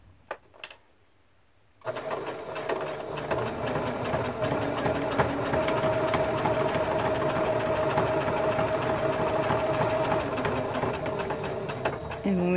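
Sewing machine stitching a quilted mug rug, running steadily and loud after a quiet start with a few clicks, then pausing briefly near the end.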